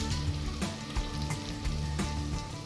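Food fries steadily in a pan with a dense, continuous sizzle and crackle. A few sharper pops and stirring scrapes recur close by, and no one speaks.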